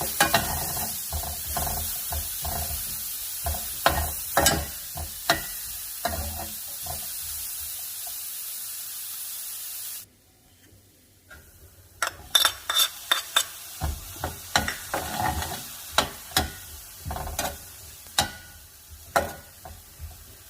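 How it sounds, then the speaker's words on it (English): Onion and jalapeño sauté in a hot pan, a steady sizzle with sharp clatters of a utensil stirring and scraping, briefly quieter midway before the stirring resumes, close and without speech. "now it's time to saute my onion and the jalapeno"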